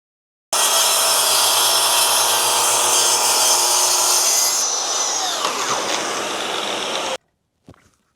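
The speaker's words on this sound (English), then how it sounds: "I'm gonna do a test rip with it to make sure my parallel guides are calibrated dead on." A power saw rips a test cut through a sheet of plywood, a loud steady whine and cutting roar running about seven seconds, its pitch shifting near the end before it cuts off, then a brief knock.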